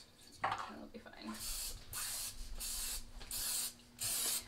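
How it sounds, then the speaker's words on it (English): Cooking spray hisses into a muffin tin in four or five short bursts, each a sharp close hiss separated by brief pauses, following a bit of handling noise at the start. "I'm just gonna spray it"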